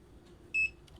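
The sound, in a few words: HTC CM-2016 clamp meter beep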